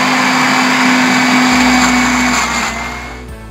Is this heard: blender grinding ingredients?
yes